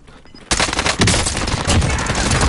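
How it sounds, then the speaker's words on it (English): Sustained rapid gunfire in a shooter video game erupts suddenly and continues as a dense, loud fusillade of overlapping shots and bursts. "You hear the gunfire?"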